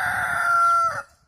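A rooster crows loudly and close by inside a backyard chicken coop built of plywood wrapped in plastic, with soft clucking from other chickens beneath it. The single long crow fades out toward the end.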